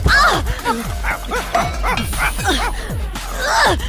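A dog barks and yips in a rapid, repeated series of sharp, close calls, about eight in four seconds, with a brief whine among them.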